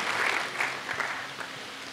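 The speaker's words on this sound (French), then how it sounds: "Let's clap for Jesus." A church congregation claps together in a dense, steady burst of applause that fades slightly over two seconds, with no one speaking.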